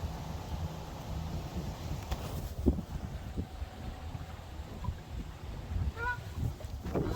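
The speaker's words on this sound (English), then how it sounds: "These birds are following me." Birds call outdoors, a few faint goose-like honks late in the clip over wind and low background rumble.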